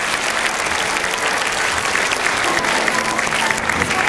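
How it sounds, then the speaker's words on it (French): A German crowd at the 2006 Cottbus gymnastics World Cup applauds gymnast Thomas Andergassen with dense, steady clapping that fills the arena and holds at an even, loud level throughout. "Thomas Andergassen applaudi par le public allemand"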